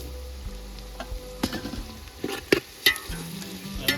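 Onions and tomatoes frying in oil in a pan for batata poha, a steady close sizzle with scattered pops and stirring scrapes, no talking.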